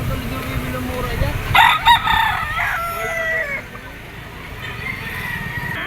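A yellow-legged bull stag rooster at a Lipa auction market gives one loud, near crow in the middle, drawn out with rising and falling tones. Other fowl cluck around it, and crowd noise and talk run underneath.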